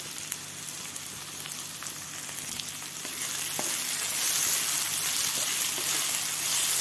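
Tomatoes frying in a pan for an okra stir-fry, a steady broadband sizzle and crackle that swells louder partway through, with no talking.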